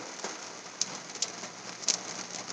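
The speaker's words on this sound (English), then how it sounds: "I'm sure you can hear the sound of the rain hitting the top of this car." Rain pattering steadily on the metal roof of a parked car, a dense close hiss with a few louder individual drops standing out.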